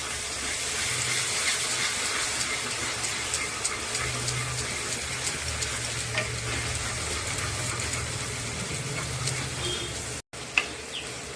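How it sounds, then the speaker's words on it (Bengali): Chicken masala with yogurt sizzles in a pan while it is stirred and fried, a close, continuous hiss broken by light scrapes and taps of the spoon and one brief dropout near the end. "এখন এটা দিয়ে ভালো করে কষিয়ে নেব"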